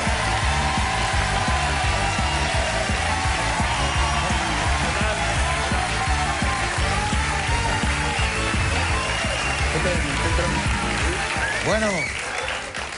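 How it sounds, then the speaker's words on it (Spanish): Studio audience applause on a Spanish TV talk show, continuous dense clapping throughout with music and voices layered over it, fading toward the end. "por favor, un aplauso."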